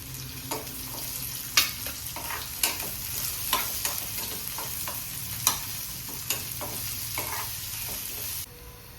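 Onion and garlic sauté in a pan, with a continuous soft sizzle broken by repeated scraping and tapping of a spoon as it is stirred, ending abruptly.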